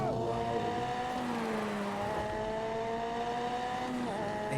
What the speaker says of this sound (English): Drifting in the McLaren.